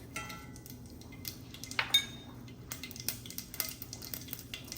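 Mustard seeds dropped into hot ghee in a pan for Punjabi kadhi, giving scattered light crackles, pops and metallic clinks of a utensil, fairly quiet with no talk over it.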